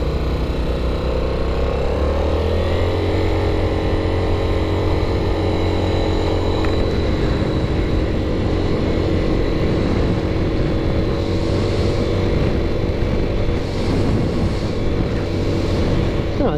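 A 1984 Yamaha Riva 180 scooter with a recent carburetor fix hums steadily while being ridden, its engine drone loud and continuous with wind and road noise around it.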